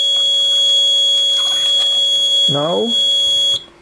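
An Arduino RFID access control alarm sounds a loud, steady electronic tone that cuts off near the end, with someone briefly speaking over it.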